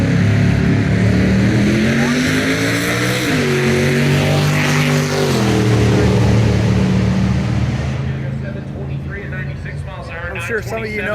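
A turbo LS drag car at a drag strip revs with a loud, droning engine note that rises and falls in pitch, then fades under crowd noise and voices.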